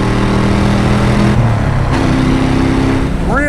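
A restored 1971 Chevrolet Camaro Z28 with a 350 V8 and four-speed, its engine loud and close as it revs up through the gears with a brief shift dip.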